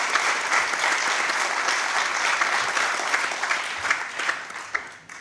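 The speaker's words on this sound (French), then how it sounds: "que je vous demande d'applaudir" Audience applause at a conference on chronic disease held at the French National Assembly, greeting a professor as he takes his seat. Dense, steady clapping from a sizeable crowd fills the whole stretch, thinning slightly with a few louder individual claps near the end.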